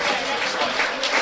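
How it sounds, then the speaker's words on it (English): Applause rolls through a football ground during a Woking versus Forest Green Rovers match as players leaving the pitch clap the away fans, a steady broad wash of crowd clapping with faint voices mixed in. "Mitchell applauds the Forest Green fans,"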